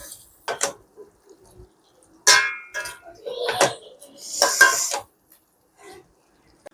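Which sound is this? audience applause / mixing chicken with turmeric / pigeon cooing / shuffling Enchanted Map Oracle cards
mixing chicken with turmeric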